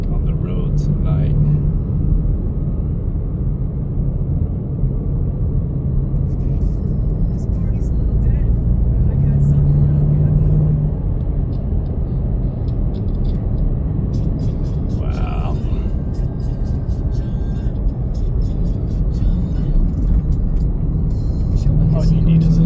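A 2024 Ford Mustang convertible driving at night in traffic gives off a steady low road and engine rumble with wind noise, a voice talking over it throughout.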